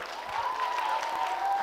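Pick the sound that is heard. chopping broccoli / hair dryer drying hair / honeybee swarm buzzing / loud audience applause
loud audience applause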